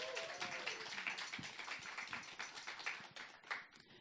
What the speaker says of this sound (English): Let's give them a little round of applause.